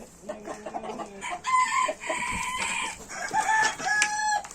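A rooster crows loudly and close by, twice in a row, while hens cluck and chatter nearby in a poultry yard.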